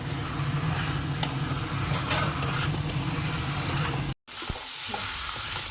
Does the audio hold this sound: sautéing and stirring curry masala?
yes